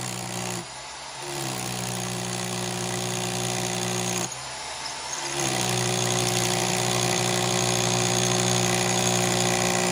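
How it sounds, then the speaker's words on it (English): A power drill bores into a cinder block with a steady, loud grinding whine that runs for several seconds and briefly drops out twice. "Let's pick a spot to drill into the block."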